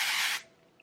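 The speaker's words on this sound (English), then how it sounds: "I'm going to spray just a little bit more texture spray" A short hiss of texture spray from an aerosol can misted onto thin, fine hair, one close burst lasting under half a second before stopping.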